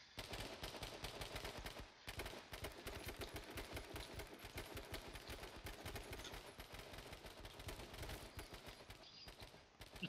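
Rapid bursts of gunfire from the survival shooter H1Z1 crackle almost continuously, dense repeated shots with a brief lull near two seconds, loud and close throughout with no talking.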